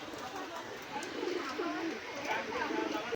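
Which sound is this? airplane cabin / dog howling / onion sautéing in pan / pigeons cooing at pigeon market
pigeons cooing at pigeon market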